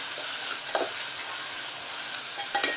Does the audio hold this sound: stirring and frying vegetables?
yes